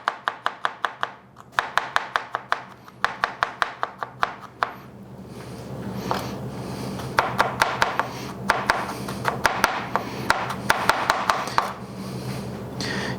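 Fermented garlic minced with a knife on a board: rapid bursts of close, crisp chopping in quick runs, pausing briefly, then a longer steadier stretch of fast taps, no voices.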